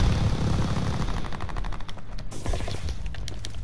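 Dense gunfire in the Call of Duty: Vanguard video game, with overlapping shots and bursts crowding a busy, loud battle mix over a low rumble of engines and mechanisms, no voices.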